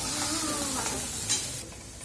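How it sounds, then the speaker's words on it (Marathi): Masala paste roasts in oil in a kadhai for a restaurant-style matar gravy, a brief dense sizzle with a soft stirring scrape, fairly quiet and close. "तर हा बघा मसाला मी इथे तेलामध्ये भाजते."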